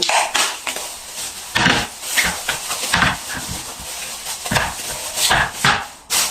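Coriander, tomato, ginger and onion are chopped on a board, giving sharp knife thuds in irregular bursts with short pauses, close and fairly loud, and no one speaks.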